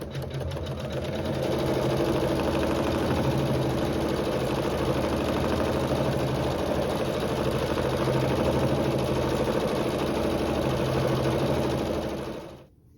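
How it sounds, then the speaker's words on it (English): Sewing machine stitching quilting and a satin stitch over fabric, a steady fast mechanical whir running unbroken for about twelve seconds before stopping, close and loud, no talk. "we'll sew some quilting as well as the satin stitch over fabric 6"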